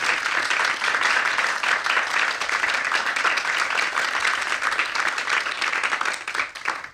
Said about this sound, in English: I would please everybody give a warm applause